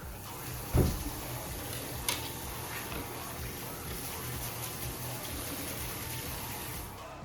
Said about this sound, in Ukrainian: я вирішив просто помити їх під краном